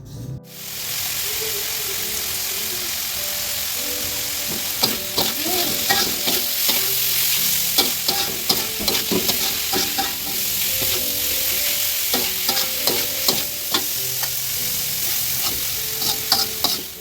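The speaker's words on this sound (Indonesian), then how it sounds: "di sini kita gongseng-gongseng aja, nggak usah dipakein air" Long beans, eggplant and tempeh stir-fried dry in a pan with no water, a steady loud sizzle with frequent scraping stirs of a spatula throughout, no voices.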